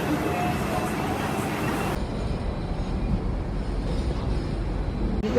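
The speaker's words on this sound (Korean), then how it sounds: "밤에는 그렇게 덥지 않아서 바람을 맞으면서 가는 이 트램이 정말 좋았다" A Hong Kong tram rolls through the city at night, a steady broadband rumble of wheels and car body with wind noise, loud and close throughout, shifting in tone partway as the ride continues.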